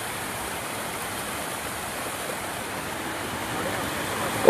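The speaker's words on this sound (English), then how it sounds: "It's a natural waterfall." A natural waterfall in Solang Valley near Manali pours with a steady, dense roar of rushing water that fills the scene evenly and stays constant throughout, with no distinct separate events.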